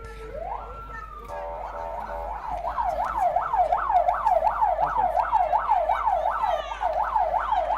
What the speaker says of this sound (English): The ambulance is here in record time